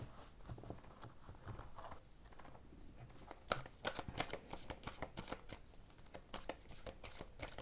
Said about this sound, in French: je vais prendre une dernière carte des portes de l'intuition